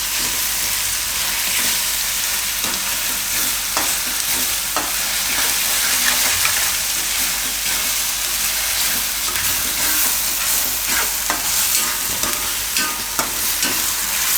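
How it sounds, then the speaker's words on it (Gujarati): Green fenugreek leaves are stirred into a simmering chickpea gravy, giving a loud, dense, unbroken sizzle close by, with repeated scraping and clicking of the spoon throughout. "હવે એમાં આપણે નાખી દઈશું આ લીલી મેથી. અને મિક્સ કરી લઈશું."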